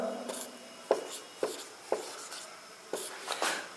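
A teacher writes on the board during a class 10 trigonometry lesson, making rhythmic scratchy strokes with sharp taps at the start of each line, close and steady with no talking.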